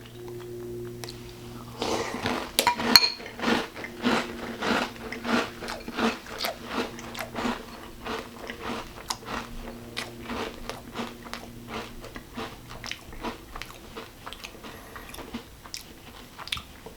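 Magic Spoon cinnamon keto cereal is crunched and chewed up close, a steady series of crisp bites and crackly chews repeating for many seconds with no talking.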